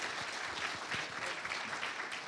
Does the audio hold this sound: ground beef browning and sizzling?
no